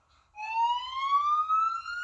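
A single siren wail rises steadily in pitch, loud and clear against near silence.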